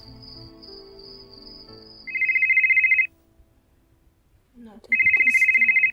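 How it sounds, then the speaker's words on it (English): A telephone rings twice in a room, each electronic trill lasting about a second, loud and close, separated by a pause with faint low sounds. "A phone rings."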